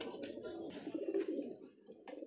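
A pair of Kalsira high-flying pigeons coos in soft, repeated bursts close by, with faint chirps in the background and no talking.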